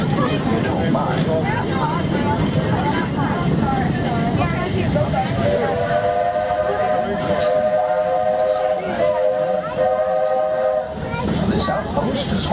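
A steam train whistle sounds in long steady tones over rumbling rail noise at Magic Kingdom, with voices talking throughout.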